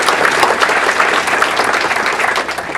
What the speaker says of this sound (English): So let's give a round of applause for Global TV for this.